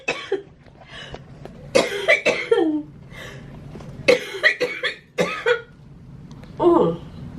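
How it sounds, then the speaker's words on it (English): A person coughs repeatedly in rough bursts after pulmonary function tests, some deep and hacking, with short breaths between fits, close and fairly loud. "Post PFTs still brings on some coughing"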